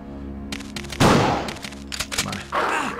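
A shotgun blast fired at dogs in the PS1 game Resident Evil 2, one loud booming shot followed by sharper bursts and thuds close up.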